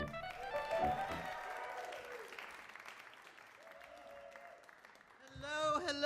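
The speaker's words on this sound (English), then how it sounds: "you can keep the applause going" Audience at an open-stage variety show applauding a performer, a faint, sustained patter of clapping under a speaking voice and some tonal sounds.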